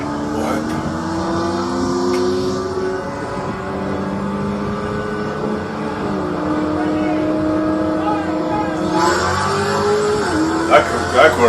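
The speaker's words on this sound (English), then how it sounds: "That Corvette just screams" A Corvette engine screams at high revs during a street race against a Supra, a steady sustained roar with rising and falling pitch, heard close from inside a car amid excited talk.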